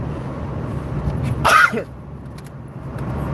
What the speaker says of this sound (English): I'm about to sneeze, and it's live, so I can't do it.